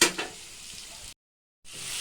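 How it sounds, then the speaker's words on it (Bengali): Potatoes seasoned with salt and turmeric sizzle in a pan for a jackfruit dalna while being stirred. A soft scrape opens a steady frying hiss, which cuts out briefly to silence and then returns. "আলুটা একটু ভাজা ভাজা হবে।"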